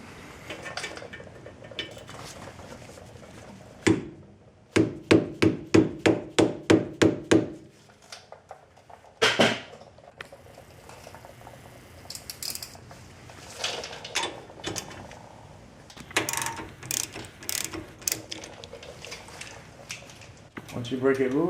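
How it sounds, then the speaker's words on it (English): A hammer taps a bolt extractor onto a stuck bolt during Honda rear wheel bearing work, a quick run of sharp metallic strikes, followed by the ratchet clicking as the bolt is backed off, up close with some background noise. "I'll take this special bolt extractor, and I'm just gonna tap it on there and back it off with the ratchet"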